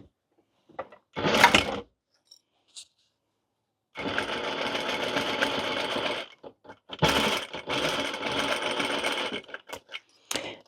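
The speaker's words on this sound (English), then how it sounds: "we're going to sew around the outside edge." A sewing machine stitches around the outside edge of a knit fabric hat brim, a short whirring burst followed by two longer steady runs of rapid stitching, close and alone.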